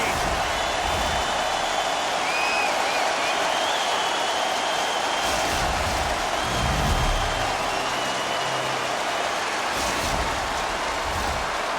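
A crowd roars in a steady wash of cheering after a goal at a hockey game, continuous and loud throughout, with a commentator talking over it.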